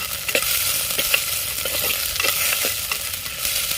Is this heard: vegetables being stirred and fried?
yes